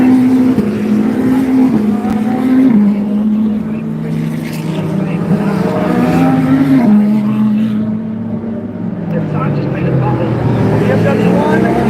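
GT3 race cars at the Daytona Rolex 24, including Corvettes, a Porsche Penske, BMW and a Mustang, roar past in a steady engine drone with shifting pitch as they race side by side, under continuous commentator talk.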